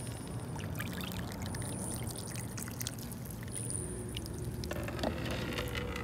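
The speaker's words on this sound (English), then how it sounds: "I'm going to add some more water." Water pours steadily onto a model canyon during a fourth-grade earth science lesson, a continuous close splashing rush that holds without pause.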